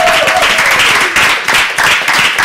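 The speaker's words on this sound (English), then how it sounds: "can we give ourselves a round of applause?" An audience in a church reality-show setting gives a round of applause, dense continuous clapping with a few pulsing surges, loud and close, with a brief voice at the start.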